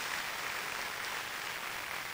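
A church congregation claps in a steady, even wash of applause with no distinct rhythm, moderately loud and continuous throughout, without any talking over it.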